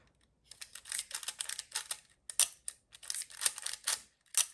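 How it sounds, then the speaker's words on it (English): Rapid, light mechanical clicking of a Leica M film camera's leaf shutter in quick clusters, close and crisp, with short pauses between bursts. "this leaf shutter is really, really quiet"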